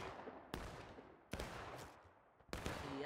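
Musket volleys in the Civil War shooter War of Rights, three sharp cracks roughly a second apart, each ringing into a rolling echo over a steady battlefield din.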